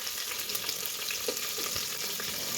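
Spices and green chilies sizzle and crackle in hot oil for vegetable pulao, a continuous dense frying hiss close up with occasional stirring.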